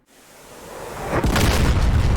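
Missiles launched in the DCS combat flight simulator during a Falklands air-war scenario, heard as a rising rush that swells into a loud, sustained roaring boom with no voices over it.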